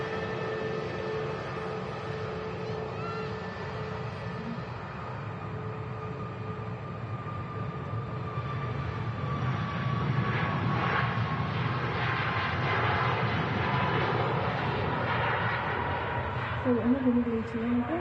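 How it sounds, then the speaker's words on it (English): A steady whirring drone from the brake cooling fans of a Pegasus Airlines A320neo at Manchester Airport, heard from a distance as a continuous hum under ambient airport noise, with people talking over it. "Hear the brake fans on this Pegasus A320 Neo."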